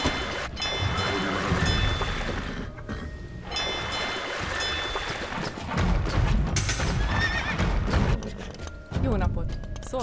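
Horses in the Age of Empires II video game neigh and whinny loudly over clip-clopping hooves and busy battle noise, with someone talking over the game sounds.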